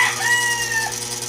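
A White Kelso gamefowl rooster crows once, near and loud: a single drawn-out cock-a-doodle-doo, clear and unaccompanied.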